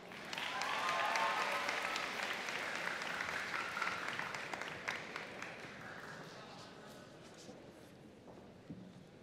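A crowd applauds at a high school senior convocation, a broad wash of clapping that swells early then slowly tapers off, moderately distant and continuous.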